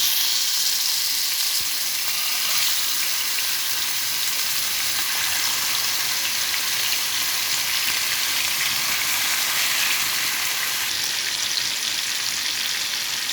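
Marinated chicken roast pieces frying in soybean oil give a dense, constant loud sizzle and crackle, steady throughout with no voices.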